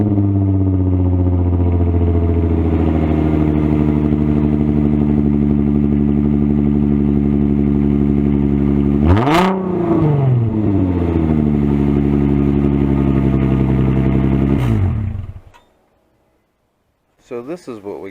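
An Infiniti FX35 engine runs with its resonator and mufflers removed, a loud, raw, steady idle that rises in a quick rev and falls back, continuing before cutting off abruptly, followed by brief sounds near the end.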